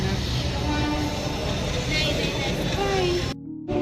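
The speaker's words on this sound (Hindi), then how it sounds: "यहाँ पे ट्रेन आ रही है, पता नहीं कौन सी ट्रेन है।" A train pulls into a station with a steady, loud rumble and rolling rail noise that runs the whole time, cut briefly near the end.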